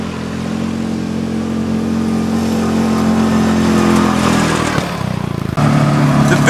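Engine of a 2019 Kawasaki Mule PRO-MX side-by-side, loud and close, droning steadily and then rising as the machine pulls away, with a brief dip and a jump in pitch near the end.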